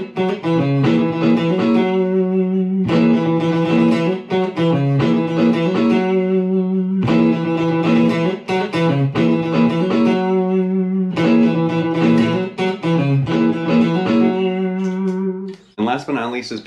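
Two looped funk electric guitars interlock in steady, bright choppy chords and riffs, loud and continuous with brief breaks between phrases.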